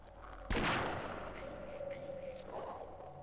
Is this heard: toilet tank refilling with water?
no